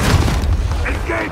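A frag grenade blows up in the Gears 5 video game, one deep booming burst that fades quickly, with game voices around it.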